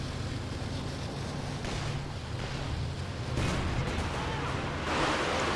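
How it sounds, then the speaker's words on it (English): Panzer artillery barrage in Company of Heroes 2, a steady low rumbling roar of distant shelling with heavier swells of blasts toward the end. "Panzer barrage there."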